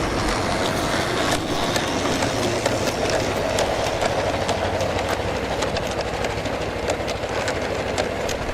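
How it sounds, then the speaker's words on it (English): A sand train on a light railway rolls through Bulkeley station with a steady rumble and rhythmic clickety-clack of wheels over rail joints, fairly close and continuous, with no one talking. "And here we see the up sand train passing through."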